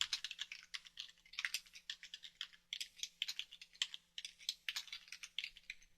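Quiet, close tapping on a computer keyboard while a title is entered in Revit MEP software, arriving in irregular bursts of soft clicks with brief pauses and no speech.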